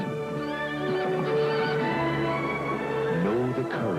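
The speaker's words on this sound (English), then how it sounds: "Beautiful horse." A horse neighs in a Black Beauty film trailer, a long loud whinny with wavering harmonics that rises and falls, set over a full orchestral music bed.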